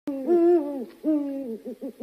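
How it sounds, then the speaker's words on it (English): An owl hoots nearby among trees in a children's story, a drawn-out hoot followed by a second one and a few short quick hoots, alone with no talk. "I hear a hoot in the trees ahead."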